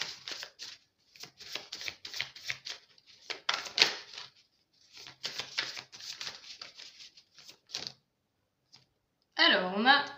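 Tarot cards being shuffled in quick close bursts of riffling and snapping, repeated several times with short pauses, faint and crisp, ending in a brief burst of voice.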